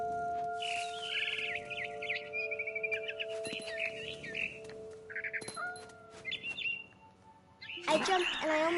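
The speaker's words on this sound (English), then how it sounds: "Then I heard chirping outside my window. It was a barn swallow going back to her nest." A barn swallow chirps in short bright bursts near a window close to its nest, against a steady background hum, with scattered calls throughout and a louder, noisier burst at the end.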